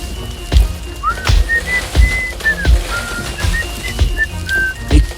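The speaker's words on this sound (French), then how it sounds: "Comment peut-il siffler ainsi?" Someone whistling a light melody of short sliding notes and brief held tones, with soft rhythmic thumps and a patter like rain underneath.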